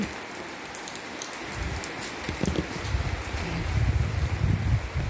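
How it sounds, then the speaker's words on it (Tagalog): Steady rain falls and patters on surfaces nearby, a dense continuous hiss with scattered drops and faint wind, with no talking. "nakapayong ako kasi maulan"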